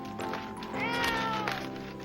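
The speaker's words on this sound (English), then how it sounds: "But you mean you brought a cat with you?" A cat meows from inside a pet carrier, a couple of clear plaintive cries over a steady background bed in a short animated-film scene.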